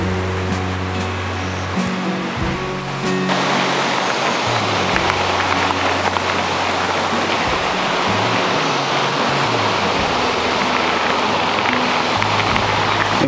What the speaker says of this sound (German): Ziemlich spektakulär hier mit dem Wasser